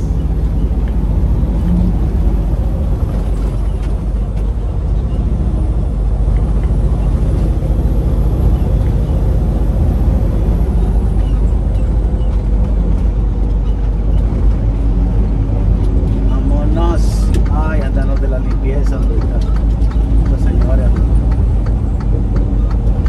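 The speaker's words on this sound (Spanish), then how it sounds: "El tráfico está bien bonito, el tráfico elegante." Steady road traffic rolls through a city in northeast Texas, a continuous broadband rumble of passing cars and engines with a brief louder pass near the end, while someone talks over it throughout.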